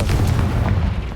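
A Confringo blasting spell explodes in the Hogwarts Legacy video game, giving a loud, sustained booming rumble heavy in the low end that holds steady for the full moment.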